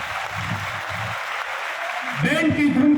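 Audience applause at a school academy event, a soft steady patter of clapping with brief voices and music rising near the end.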